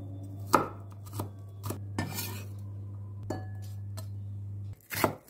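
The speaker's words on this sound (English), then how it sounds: "To begin, chop 2 to 3 cloves of garlic." A kitchen knife chops garlic cloves on a board in a series of sharp, irregular taps, close and clear, over a steady low hum.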